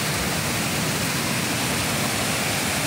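Roncador waterfall on the Mundaú river roars steadily, a loud broadband rush of falling water filling the whole stretch without pause.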